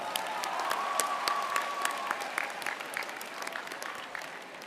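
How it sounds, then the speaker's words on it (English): Large-crowd applause at a business association's annual meeting, a broad sustained wash of clapping from a big hall with distinct sharp claps popping through, fading slightly toward the end. "Give yourselves a round of applause."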